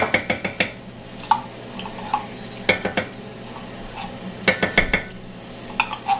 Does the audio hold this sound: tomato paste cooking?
yes